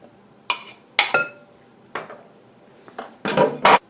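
Cubed butter drops into a bowl of flour mixture while buttermilk biscuits are being made. Several sharp clinks and knocks against the bowl land in irregular bursts, with a cluster of louder clatters at the end.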